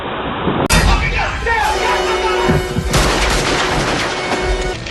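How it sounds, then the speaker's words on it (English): Beretta pistol fired at targets, a sharp loud report opening the clip followed by a couple more bangs and metallic clangs, with ringing echo and background noise throughout. "Go hit your targets with that Beretta whenever you're ready"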